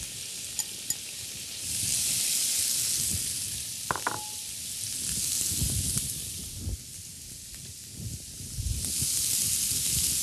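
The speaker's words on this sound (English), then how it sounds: "we're going to add our sweet potatoes. There's the sizzle." Sweet potatoes sizzle steadily in a hot frying pan, a continuous bright hiss with a few clinks and stirring scrapes from a utensil, close by and with no talking.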